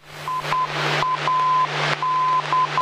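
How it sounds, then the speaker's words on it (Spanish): The Morse code identifier of an aircraft navigation radio beacon, heard in a Cessna 182 cockpit: a clear, steady tone keyed in short and long dashes over a constant engine hum and radio hiss. "Se debe de ir el código Morse."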